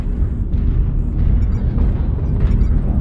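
A video game airstrike explosion, a heavy sustained low rumble and roar rolling on for a few seconds with bursts of debris crackle, loud and close with no talk.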